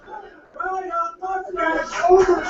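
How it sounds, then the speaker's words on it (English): A wrestling crowd at a live pro wrestling show chants a countdown in unison, rhythmic voices rising in volume over a couple of seconds. "Crowd creating their own countdown for some reason here."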